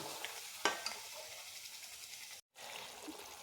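Coconut milk slowly frying down into coconut oil in a pan, giving a soft, continuous bubbling sizzle, with a spoon scraping as it is stirred close by, all quite faint.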